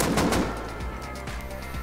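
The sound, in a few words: full auto gunfire in Rust video game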